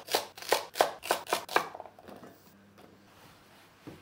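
Rapid chopping of celery with a knife on a cutting board: six quick, even strikes in a steady rhythm, close and crisp, then the cutting slows and fades into softer scattered taps and a late single cut.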